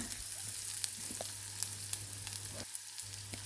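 Onions with turmeric sizzle steadily in a pan for onion rasam, with faint scrapes and clicks of stirring over a soft, continuous frying hiss and a brief lull near the end.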